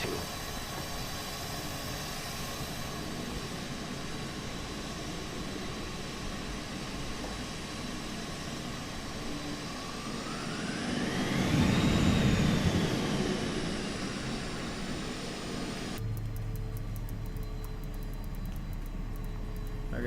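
Twin jet engines of a Learjet 35A spooling up for takeoff in Microsoft Flight Simulator 2020, a steady loud roar and whine that swells to a peak with a rising tone, then drops to a lower hum with faint high ticking.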